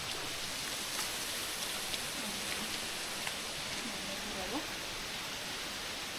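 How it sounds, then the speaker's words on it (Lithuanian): Rain falling on a rocky path in Madeira in January, a steady soft hiss of drops close by with a few faint low voice fragments beneath it. "Oi, čia lyja."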